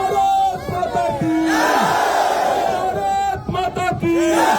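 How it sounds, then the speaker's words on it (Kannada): A large rally crowd shouts a patriotic 'Bharat Mata ki Jai' slogan together, a loud, sustained wall of massed voices that swells in waves and rises again near the end. "ಒಂದ್ಸಲ ಉಚ್ಚ ಕಂಠದಲ್ಲಿ ಭಾರತ್ ಮಾತೆಗೊಂದು ಜೈಕಾರ ಕೊಡಿ"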